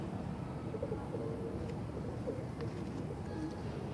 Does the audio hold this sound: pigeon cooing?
yes